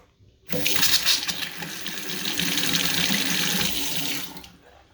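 Hot water tap running steadily into a newly installed bathroom vanity sink, a close, loud splashing rush that starts suddenly and stops after about four seconds, with no voices.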